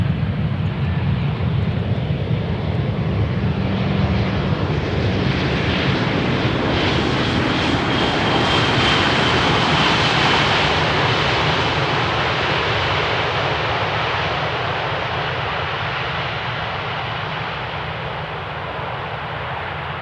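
Airliner landing on runway 18R at Amsterdam Schiphol Airport, a loud continuous jet engine roar that swells as it passes close by and then slowly fades while still rumbling.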